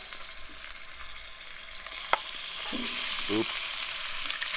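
Salt-and-pepper-seasoned bison meat sears in melted bacon drippings with a continuous close hiss and crackle that swells slightly later. A single sharp clink rings out partway through, and a voice briefly exclaims.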